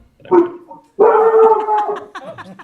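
Dogs barking and yipping in a room during a public school board meeting, a few short bursts close by and fairly loud, with no other sound.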